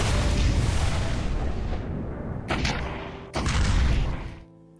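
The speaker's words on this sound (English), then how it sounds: "Here's an even bigger grenade launcher." Rocket-firing grenade launcher blasts in VRChat: a long roaring explosion followed by two more sharp booms, loud and close, ending in sudden quiet.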